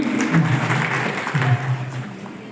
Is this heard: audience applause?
yes